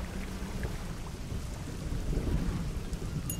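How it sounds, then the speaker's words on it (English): Steady rain with low rumbles of thunder in the fishing video game Dredge, a constant wash of falling water at moderate level, the rumbling swelling slightly toward the end, with no voices over it. "I like the rain."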